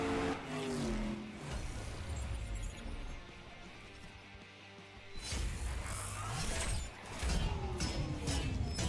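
Drag race car engine in the CSR2 mobile racing game roaring through rising gear shifts, then a surge as nitrous kicks in, loud and continuous with brief dips between gears.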